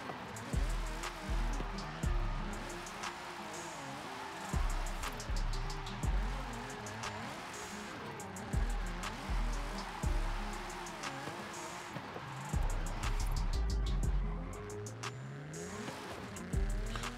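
Car engine in a racing video game descending a mountain road, revving and shifting in repeated surges with occasional tire squeal, loud and steady throughout with no talking.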